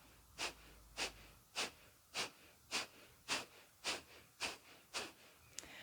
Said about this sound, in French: à l'expiration, tu vas expirer fortement en contractant les abdominaux.